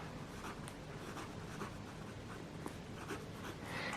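Fine-nib Lamy fountain pen with Lamy Dark Lilac ink writing on Tomoe River paper, a faint, steady scratchy glide with soft repeated strokes, close and quiet, no talk.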